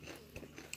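A quick close bite and a couple of soft chewing crunches from a guess-the-food challenge, faint and brief with no talk.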